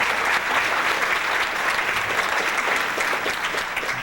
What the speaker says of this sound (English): Dr. Sebi, round of applause.